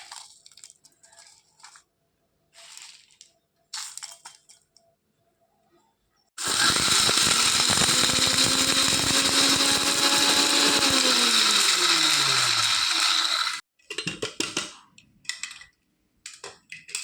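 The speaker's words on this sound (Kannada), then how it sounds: "ಈಗ ಈ ವಸ್ತುಗಳೆಲ್ಲ ಫ್ರೈ ಮಾಡಿದ ಎಲ್ಲ ಸಾಮಗ್ರಿಗಳು ಈಗ ನಾವು ಮಿಕ್ಸಿಯಲ್ಲಿ ಹಾಕಿ" A kitchen mixer grinder whirs loudly for about seven seconds, crushing fried spices for beef sukha powder, its motor pitch sagging as the load bites, framed by quieter clatter and handling before and after.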